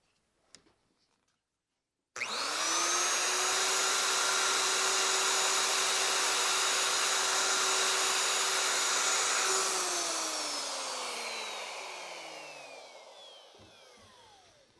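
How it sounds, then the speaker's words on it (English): A router runs a frame tenon cut guided by a mortise and tenon jig: a soft click, then the motor spins up to a loud steady whine for about eight seconds before winding down slowly, close by, without speech. "We're just about ready to cut. The depth of our router bit will then control the length of our tenon."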